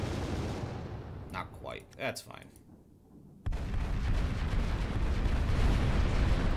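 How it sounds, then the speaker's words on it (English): Kinetic cannons firing in the space combat game Final Theory, with a burst of sharp shots and a rising whine, then a sudden loud, sustained roaring rumble. Someone speaks briefly over it. "Let's see, kinetic cannons finish him?"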